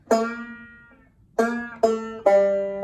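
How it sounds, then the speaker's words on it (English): Four plucked clawhammer banjo notes ring out one by one, each decaying briefly, with the later notes shifting slightly in pitch as the string is bent up a half step and released. "So we're gonna bend it up a half step, go back, unbend it"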